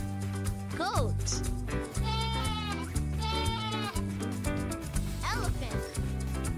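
A goat bleats in several wavering calls, rising over steady, loud backing music in a children's animal-sound lesson.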